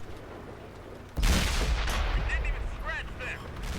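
A Jagdtiger tank destroyer's cannon fires in World of Tanks, one sharp, heavy boom about a second in that rolls out into a long rumbling decay, with faint game sounds and brief speech in the background.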